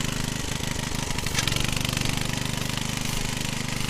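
A ride-on lawn mower engine pulling in third gear, a loud, close, rapid mechanical chugging that holds steady throughout, with no talk.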